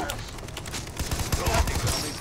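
Gunfire from the video game Far Cry 3, played in co-op on PC: a dense, steady volley of shots fills the clip while players talk over it.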